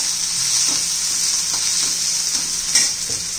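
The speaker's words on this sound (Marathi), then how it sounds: "आता जरा 2 मिनिटं जरा परतून घेऊ" Leftover chapati cut into noodles stir-fries in a pan with a continuous bright sizzle and soft scraping stirs throughout, close and alone.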